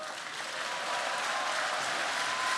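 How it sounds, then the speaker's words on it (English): A large arena audience at the Cybathlon 2024 competition gives a steady, dense round of applause, many hands clapping together in a continuous wash that holds level and slightly swells, with no voices over it. "Round of applause, please, everyone here in the arena"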